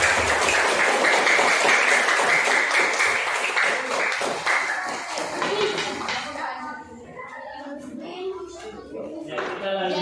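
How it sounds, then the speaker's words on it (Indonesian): Classroom applause from a group of students and teacher, dense clapping for about six seconds that fades out, followed by people talking. "mari kita tepuk tangan untuk kita semua"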